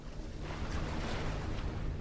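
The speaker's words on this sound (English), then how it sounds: "Oh, water. Okay." Water in the video game BioShock: a steady, broadband rushing wash like flowing or splashing water, continuous and fairly loud throughout with a low rumble underneath, no voices.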